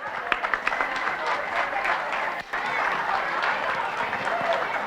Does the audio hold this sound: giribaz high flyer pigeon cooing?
no